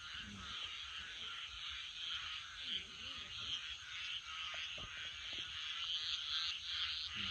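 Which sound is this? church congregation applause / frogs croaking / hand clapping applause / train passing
frogs croaking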